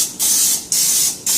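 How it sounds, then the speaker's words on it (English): A spray bottle mists rolled bread dough in a home kitchen, three quick, loud, hissing bursts in steady succession, each fading briefly before the next. "Spray that."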